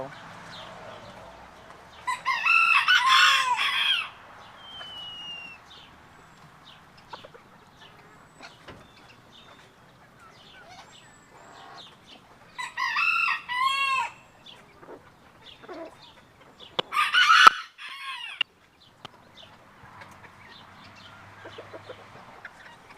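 Chickens cluck and call while squabbling around a feeding dish, bursts of fowl vocalizing at moderate level separated by quieter stretches of background noise.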